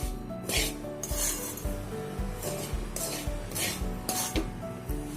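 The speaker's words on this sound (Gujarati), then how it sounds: "સતત હલાવતા જ રહેવાનું છે આને આપણે। આ રીતે મિક્સ કરતા રહેશે।" A spoon scrapes and stirs a khoya (mava) sweet mixture in a pan over low heat, with repeated rhythmic scraping strokes and soft metallic knocks, close and fairly quiet.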